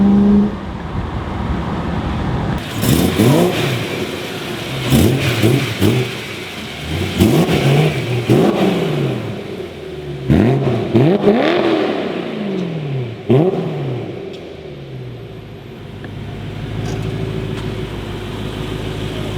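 A BMW E92 engine revs hard and accelerates in repeated pulls, its pitch sweeping upward each time with short dips between gear changes. The sound is loud and close, then eases off toward the end.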